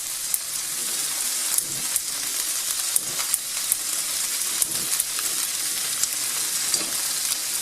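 Fat sizzling in a pot on the heat while soup is being started, a continuous crackling fry with scattered sharp pops and spits throughout, close by and without talk.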